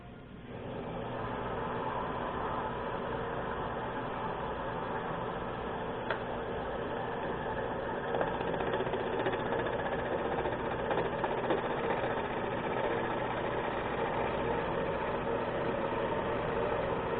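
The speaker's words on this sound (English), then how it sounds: "Turn the lathe on slow, see if it moved." A wood lathe turns slowly with a burl hollow form mounted, giving a steady, continuous mechanical hum and whir with faint ticking throughout, close and even, with no voices.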